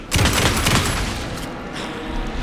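Rapid gunfire in the video game Alan Wake 2 rattles in a dense burst near the start, then fades into a loud, noisy wash of game sound.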